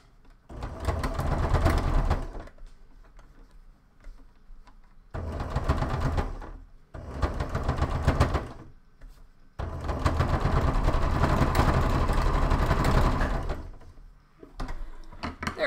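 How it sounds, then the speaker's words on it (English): A sewing machine stitching a plush toy's head onto its front panel, running in several bursts of rapid mechanical whirring separated by quiet pauses, close and loud. "the head's going to attach right here. And then... sew this part on the front"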